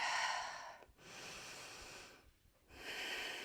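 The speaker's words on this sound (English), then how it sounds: "Take a couple breaths here." Deep, slow breathing during yoga in mountain pose, long airy inhales and exhales close to the microphone, separated by brief pauses.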